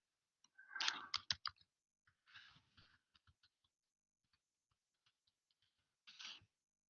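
Typing on a computer keyboard during a chemistry lecture: a quick burst of clustered key clicks, then sparse, faint single taps and a final short flurry, close and quiet.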